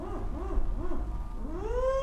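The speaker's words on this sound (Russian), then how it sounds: "Тут филин заухал" An eagle owl hoots: three quick arching hoots, then a longer rising call that holds, close and fairly clear.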